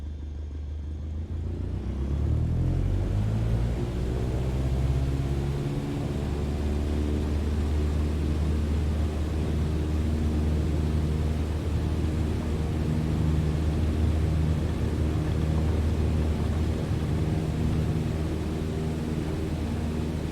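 Propeller aircraft engine in Microsoft Flight Simulator throttling up from rest, a steady loud drone whose pitch climbs and settles into a sustained roar as the plane takes off, with no voices.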